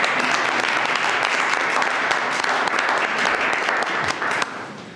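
A room full of people at a college board of trustees meeting applauds steadily and loudly, then the clapping tapers off near the end.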